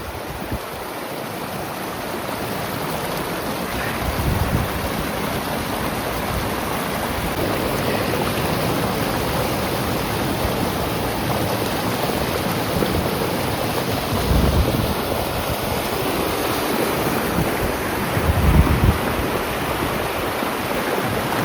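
A continuous loud rush of rainwater flowing down from the hills after an unseasonal downpour, steady and roaring like a swollen stream, with occasional low thumps and no voices.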